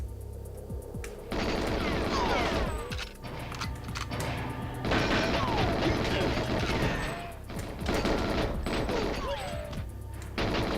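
Sustained bursts of loud automatic gunfire from the N64 video game GoldenEye 007 on the Dam level, rattling in long stretches broken by short pauses, with someone talking over it.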